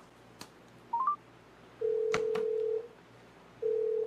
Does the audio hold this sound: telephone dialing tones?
yes